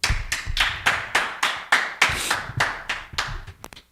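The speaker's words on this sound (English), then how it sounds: "Clap it up." A group of men clapping together in unison at a brotherhood class, a steady rhythmic series of about a dozen sharp, close claps that slows and scatters into a few final hits.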